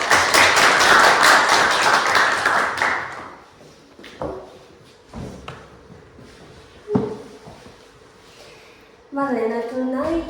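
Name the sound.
audience applause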